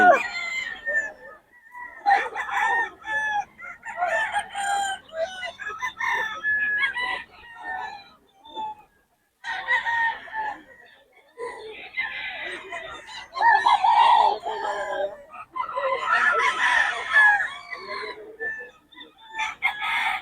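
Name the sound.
young rooster (stag) crowing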